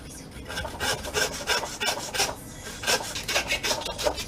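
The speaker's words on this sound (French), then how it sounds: "Comme d'habitude, je scie l'os et pas la viande." A hand saw rasps steadily through bone, close by, in repeated back-and-forth strokes of a regular rhythm, with no talking.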